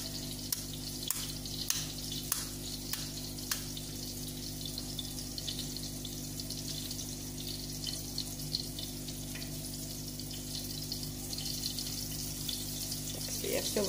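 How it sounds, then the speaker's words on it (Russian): Cutlets fry in a pan with a soft, continuous sizzle and scattered sharp pops and crackles, heard quietly and close with a low steady hum underneath. "Котлетки дожариваются."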